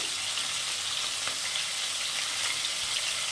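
A dried red chilli sizzles and fries in hot oil in a pan, a steady close crackling hiss with faint stirring.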